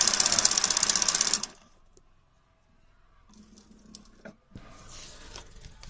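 A sewing machine driven by a servo motor runs briefly with a fast, even mechanical chatter, then stops abruptly, leaving a quiet stretch with faint scattered clicks and handling noises nearby.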